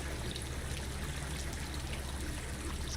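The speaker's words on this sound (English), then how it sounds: "I simultaneously feel this is a new water sound" Water in the video game Rain World: a steady, dense rush and trickle like a flowing stream, even and unbroken for the whole stretch, moderately quiet, with no talking.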